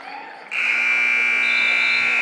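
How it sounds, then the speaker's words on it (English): End-of-game buzzer at a girls' high school basketball game, Nashua South vs Campbell: a loud sustained electronic buzz cuts in abruptly and holds steadily over crowd noise. "The buzzer sounds"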